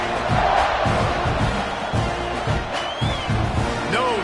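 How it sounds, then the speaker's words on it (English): A large college football stadium crowd at an Aggies versus Tigers game roars and cheers before kickoff, a dense, continuous wall of noise with whoops rising above it. "They're set to kick it off, and this crowd now ready to get behind them."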